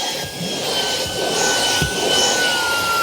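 A Shark Power Detect Clean & Empty IP3253 cordless vacuum runs with strong suction, giving a steady high-pitched whine and rushing airflow. Brief low thumps come through as the cleaner moves across the floor.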